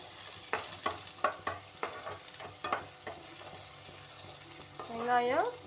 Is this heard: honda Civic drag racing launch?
no